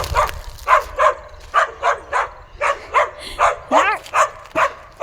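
A dog in a Kenyan village barks at a stranger in a quick, steady series of a dozen or so loud, close barks, with one drawn-out whiny yelp near the end.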